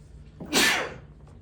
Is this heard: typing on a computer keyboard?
no